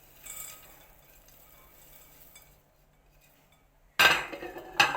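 Almonds tip into a bowl of oats for a no-bake oat and nut treat, landing as a loud, dense burst of clinks and rattles near the end, with a second short clatter just after, following a quiet stretch.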